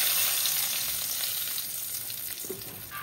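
Whole cardamom pods and bay leaves hit hot oil in a wok, giving a steady close sizzle and crackle that fades slightly over a few seconds, with a brief stir near the end and no talking.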